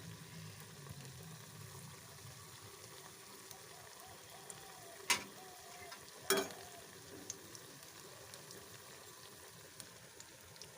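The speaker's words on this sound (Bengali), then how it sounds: "এই কটা আগে ভেজে নিই গ্যাসের ফ্লেমটাকে বাড়িয়ে দিই" Battered bok flower fritters fry in oil on a gas stove, a faint, steady sizzle broken by two sharp crackling bursts partway through, with no one talking.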